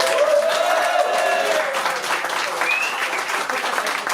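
Loud, sustained applause from a concert audience at the Zonmé venue in Nice, dense clapping filling the space throughout with a few whistles and voices mixed in.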